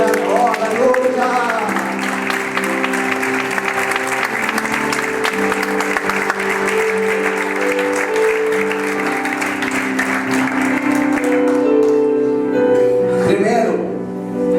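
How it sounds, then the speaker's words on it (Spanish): Applause from a church congregation during a Spanish-language sermon, steady and sustained for most of the span, blended with music and voices throughout. "¿Cuántos aplauden al Señor en este momento?"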